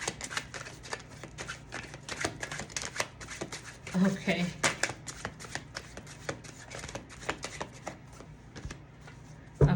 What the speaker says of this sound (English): We do have 3 of Swords and Knight of Wands making an appearance as I'm shuffling.